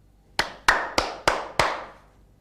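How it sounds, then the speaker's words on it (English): Five crisp hand claps, close and evenly spaced at a steady rhythm, each ringing briefly in a quiet room with no talk over them. "Clap your hands."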